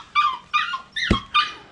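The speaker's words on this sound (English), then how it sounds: "that's my dog over there crying like he usually always does because he's not down here." A dog whimpers and cries in four short, high, whiny bursts with pauses between them, close and fairly loud, with no talking.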